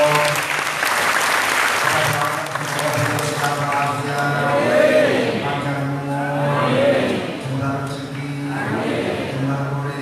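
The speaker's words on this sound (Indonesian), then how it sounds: "Tepuk tangan untuk beliau." Audience applause fills a religious discussion gathering, a dense, steady clapping that runs the whole time with some tonal sound mixed underneath.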